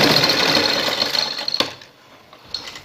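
A sewing machine stitches a neckline design in a steady fast whirring run, then stops with a clunk, leaving quiet handling noises afterward.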